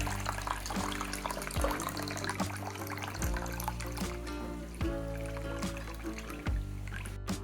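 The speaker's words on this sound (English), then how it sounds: "I'm just going to fill that up with some regular old vinegar and let that soak for about 24 hours" Vinegar poured into a container holding the metal parts of an antique charcoal iron, a steady close trickle and splash running continuously, with a few faint knocks in the background.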